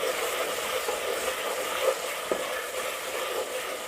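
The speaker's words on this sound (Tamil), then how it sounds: "இது 2ஐயும் சேர்த்து நல்லா வதக்கிக்கிறலாம்." Tomatoes and green chillies sautéing in a pan for a mutton podi curry, giving a continuous soft sizzle with a few light stirring clicks, fairly quiet and with no voices.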